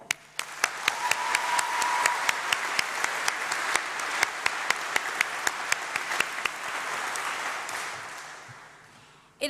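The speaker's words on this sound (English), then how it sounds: "I would like to invite a round of applause" A crowd in the Great Hall gives a round of applause at a summer congregation ceremony. Steady clapping runs throughout, with distinct individual claps ringing out over the mass before it dies away.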